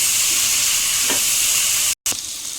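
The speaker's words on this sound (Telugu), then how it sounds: "అల్లం వెల్లుల్లి పేస్ట్ పచ్చివాసన పోయేంత వరకు అయితే వేపుకుందాం." Vegetables frying in a pan with ginger garlic paste for vegetable khichdi, a steady loud sizzle running throughout with a brief stir, cut by a momentary dropout near the end.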